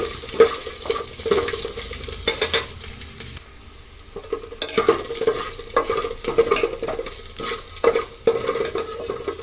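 Steady crackling sizzle of tempering spices frying in hot oil for a leafy-greens bassaru, with repeated stirring scrapes and small clinks throughout, close up and fairly loud.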